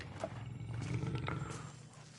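A lion roars in the fantasy role-playing game Pillars of Eternity, a low, rumbling growl that swells and fades within a couple of seconds over faint game ambience.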